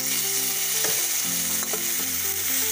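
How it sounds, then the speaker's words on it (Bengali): Tomatoes tossed into onions frying in hot oil in a pan, a constant loud sizzle with a few stirring scrapes, close and without talk, while a Bengali fish dish with beans, potato and bori is prepared. "পেঁয়াজটা একটু ভাজা ভাজা হয়ে গেলে আপনি টমেটোটা এর মধ্যে ছেড়ে দিন"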